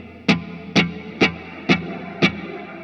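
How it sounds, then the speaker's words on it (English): Five evenly spaced guitar hits run through a TC Electronic Plethora X5 shimmer reverb, each strike ringing into a bright, swelling tail, loud and close with no talk. "I'm using my expression pedal to start modulating more of the shimmer than of the reverb"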